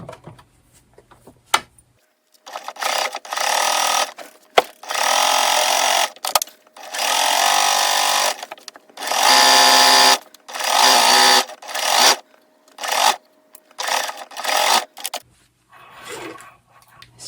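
A sewing machine stitches fabric for children's shorts in a string of about eight separate bursts of rapid whirring, each a second or two long, divided by brief quiet pauses and small handling clicks.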